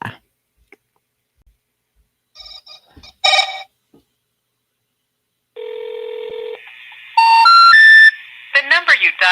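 Outgoing phone call: keypad dialing tones and beeps, then a steady ringback tone and a rising three-note intercept tone, with short electronic bursts at the end; no speech.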